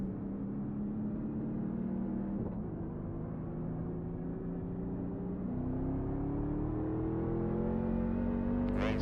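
A NASCAR race car hot lapping on the track holds a loud, steady engine drone close by, its pitch climbing gradually through shifts across the run, with no talk over it.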